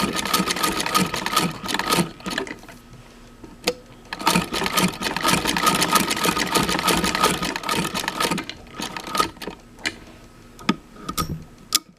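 A vintage Singer 66 treadle sewing machine stitches a leather belt in several bursts of rapid mechanical clatter, separated by short pauses and sharp ticks, close and fairly loud.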